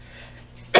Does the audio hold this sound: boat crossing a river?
no